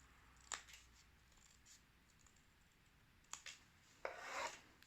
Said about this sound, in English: we'll take scissors and cut the paper on this line right here